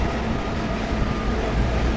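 Train running through Japan, a steady broadband rumble and roar with no clear breaks, loud and continuous, like riding aboard or standing close beside the moving cars.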